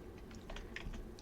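Keys tapped on a computer keyboard while entering a sudo raspi-config command on a Raspberry Pi, a quick run of soft, irregular clicks, close and fairly quiet against a low background hum.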